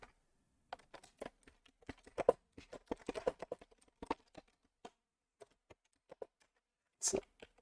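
Code typed on a computer keyboard, quiet irregular clicking keystrokes in quick bursts with short pauses and a louder clatter near the end, with no other sound.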